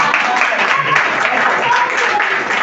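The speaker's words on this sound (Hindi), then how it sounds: "आप लोगों को तालियां बजानी ही होगी" An audience at a live comedy show breaks into loud, sustained applause, a steady wash of many hands clapping close and full throughout.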